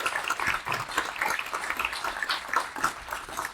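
Attendees at a Korean press labor union's inauguration ceremony clap through a plaque presentation, a fairly quiet, uneven patter of hands in a hall with some distinct individual claps.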